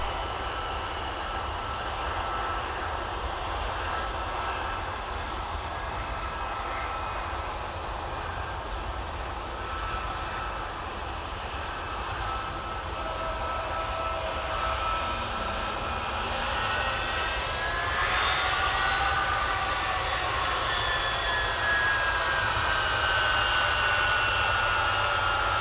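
Aircraft taxi at Minneapolis–Saint Paul airport on a freezing winter day, a continuous distant jet engine drone that swells slightly louder near the end, with faint whining tones rising and falling over the rumble.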